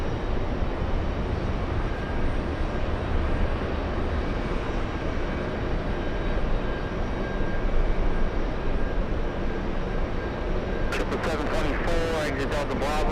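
An Aer Lingus airliner from Shannon crossing runway 22 left at JFK airport, a steady distant jet engine roar holding throughout with faint radio chatter and talk in the background.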